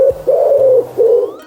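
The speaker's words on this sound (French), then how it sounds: "c'est un pigeon" A pigeon coos up close, three loud, sustained low calls in a row with short pauses between them, alone without any talking.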